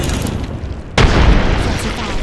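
A frag grenade detonates in Apex Legends, a single sudden loud boom partway through that follows a quieter stretch of game noise and trails off into a rumbling wash.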